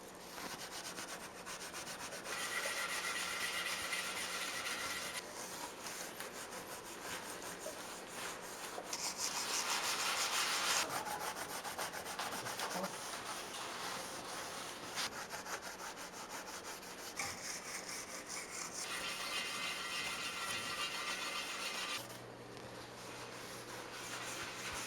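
A scrubbing pad rubs corrosion off the rear differential sealing surface of a 2017-2020 Ford F-150 Raptor, making steady, close, rasping scrubs in repeated strokes with short pauses, with no one talking.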